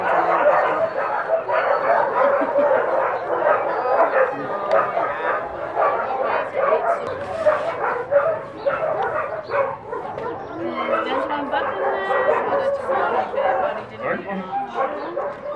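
Many stray dogs at a shelter in Aourir bark, yip and whimper continuously in a loud, overlapping chorus, with people's voices mixed in among the noise.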